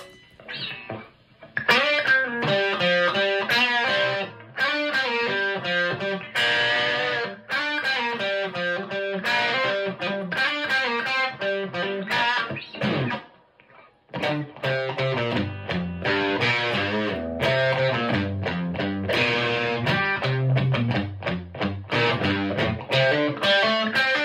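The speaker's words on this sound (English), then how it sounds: "let's take it over to the drive to show you guys how the drive kind of sounds" Electric guitar, a Telecaster with single-coil pickups, played through the overdrive channel of a Supro Delta King 12 amp, gritty sustained chords and riffs ringing loudly with a brief pause midway.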